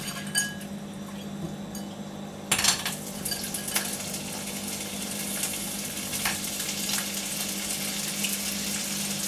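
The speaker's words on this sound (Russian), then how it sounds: "Вот сейчас обжарю креветки." Shrimp fry in a hot pan with a steady, close sizzle. A loud clatter near 2.5 seconds starts it, as if the shrimp hit the oil. Light clinks of a utensil against the pan come and go as the frying hisses on without talk.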